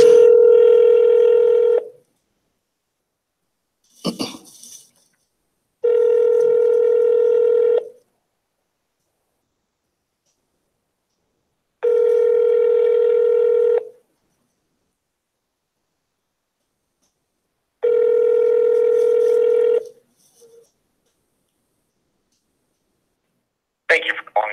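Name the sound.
telephone dialing tones when calling a senator's office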